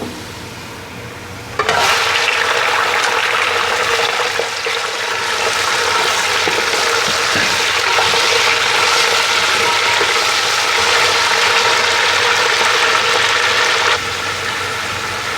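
Chicken frying in a pan with onions for Sindhi pulao biryani, as a loud, steady sizzle that bursts in abruptly and holds evenly, close by, with no voices.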